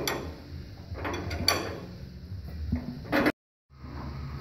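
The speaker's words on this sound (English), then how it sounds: "So we pull the bushing out." A puller draws a bushing out of a Rolls Royce differential, giving grinding, ratcheting mechanical creaks and a few sharp metallic knocks, close and moderately loud, ending in a short pause.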